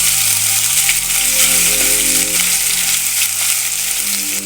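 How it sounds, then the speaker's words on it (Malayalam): Crushed ginger and garlic dropped into hot oil with mustard seeds for a beef pickle, sizzling loudly and steadily up close with scattered popping crackles throughout. "കടുക് പൊട്ടി വന്നതിന് ശേഷം ഇതിലേക്ക് ഒരു ടേബിൾ സ്പൂൺ ഇഞ്ചി വെളുത്തുള്ളി ചതച്ച് ചേർത്തെടുക്കാം"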